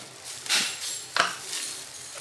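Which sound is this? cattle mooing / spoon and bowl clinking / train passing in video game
spoon and bowl clinking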